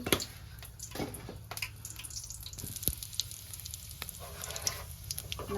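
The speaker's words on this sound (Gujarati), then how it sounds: "તેલ મૂકી દીધું છે અને જીરું નાખી દીધું છે. હવે હિંગ નાખી દેવી છે." Cumin seeds and asafoetida sizzle in hot oil at the start of a vegetable bhaji, a steady close crackle and hiss with scattered sharp pops and ticks throughout, no voices.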